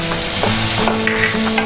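Cumin and turmeric powders stirred and fried in a pan for Bengali chicken curry, a loud close sizzle with quick scraping strokes of a spatula, no voices.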